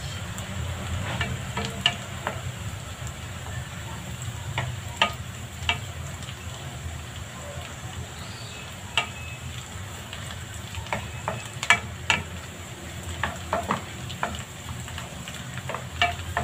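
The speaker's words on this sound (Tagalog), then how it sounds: "Lutuin natin yung sibuyas na maigi." Onions sauté gently in a pan for bean sprout lumpia, a faint continuous sizzle over a low hum, with scattered spoon taps and scrapes from stirring.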